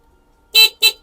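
An Elwinn EV6 electric car's horn beeps twice in quick succession, two short, loud, bright toots close by with no talking.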